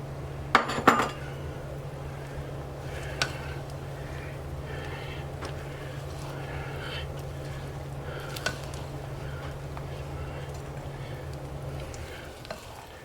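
Spoon scraping and clinking against a bowl as flour is stirred into brownie batter, a steady run of close, soft strokes with occasional sharp taps, over a low constant hum.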